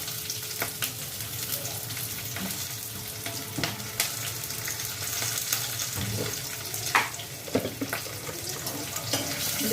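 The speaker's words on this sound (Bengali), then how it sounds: "দেখতে পাচ্ছ আমি ভাজছি এগুলোকে, সেখানে এগুলোকে ভেজে নিচ্ছি আমি।" Chopped onion, chili, garlic, ginger, whole cumin, poppy seeds and cashews fry together in a pan with a steady broad sizzle, punctuated by stirring scrapes and clacks, close and fairly loud with no talking.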